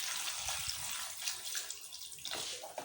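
Water pours steadily into a bowl of raw chicken with white vinegar and salt, a continuous splashing, gurgling rush close by with no talk.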